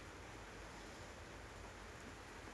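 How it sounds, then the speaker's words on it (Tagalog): Constant broadband wash of rain and surf, a steady hiss with a low rumble underneath, faint and unbroken. "Puro na lang alon dito at ulan"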